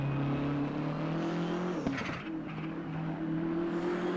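BMW M6 GT3 race car engine in Assetto Corsa Competizione at Misano, a steady loud snarling drone with a sharp gear-change blip midway, then the note settles back to a sustained run alone.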